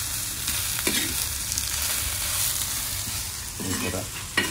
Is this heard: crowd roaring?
no